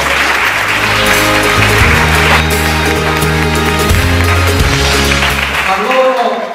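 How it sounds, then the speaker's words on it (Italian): Audience applause at a training event for third-sector professionals in Cerignola, a dense, steady wash of clapping that holds loud for about six seconds before cutting off, with a low hum beneath it. "farei un grosso applauso"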